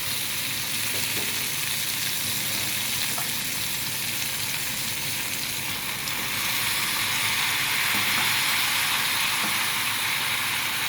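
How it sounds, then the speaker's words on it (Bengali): Malabar spinach fries in a pan with ginger paste, garlic paste, cumin powder and turmeric, giving a loud, continuous close sizzle with faint stirring that swells slightly toward the end. "আদা বাটা, রসুন বাটা অল্প করে দিয়ে জিরে গুঁড়ো, হলুদ গুঁড়ো দিয়ে নাড়ছি"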